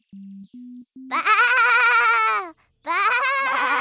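Cartoon characters bellow loudly in a sheep-like bleat, voices imitating sheep with long wavering baa calls, preceded by three short electronic tones and separated by a brief pause.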